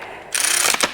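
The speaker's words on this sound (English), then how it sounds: "Let me grab my ratchet here." A hand ratchet wrench clicks in a quick, close run of sharp pawl ticks, working on a 1978 Yamaha DT400E motorcycle in a shop, with a couple of louder final clicks.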